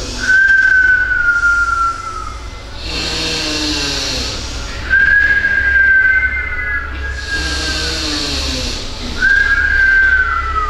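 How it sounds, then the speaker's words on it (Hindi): Yoga breathing through the mouth: three clear, slightly falling whistled exhalations, each lasting about two seconds, alternate with rushing breaths in between. The sound is close and loud, with no talking. "चंद्र नाड़ी से गहरा बस श्वास लेना है और मुंह से सीटी गुजारते छोड़ना"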